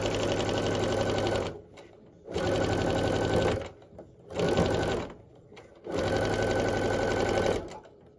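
Quilt block pieces being joined on a sewing machine: four loud, close bursts of fast stitching, each a couple of seconds long, separated by short quiet pauses.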